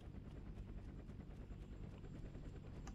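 A Huey helicopter thumps steadily overhead in the Roblox game Rolling Thunder Vietnam, its rotor chop loud and continuous over a dense engine rumble, with no one speaking.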